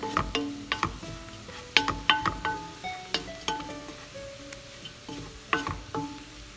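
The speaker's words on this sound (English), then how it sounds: "to the pork pieces that have been frying with that bouillon for about a minute" Pork pieces fry with bouillon as a utensil repeatedly scrapes and knocks against the pan, producing a string of sharp, ringing clinks over a faint background sizzle.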